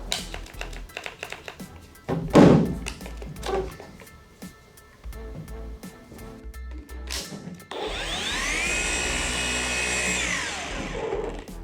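A cordless random orbital polisher starts after some tapping and handling noises, then runs with a steady, loud whirring hum for several seconds.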